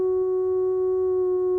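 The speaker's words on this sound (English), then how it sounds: "a sine wave" A pure, steady electronic sine tone holds at one pitch, unchanging and alone.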